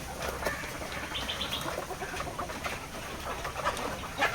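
Village-bred desi chickens cluster at a farm feeder, giving a dense, close chorus of clucks, soft calls and wing flutters that runs continuously with no speech.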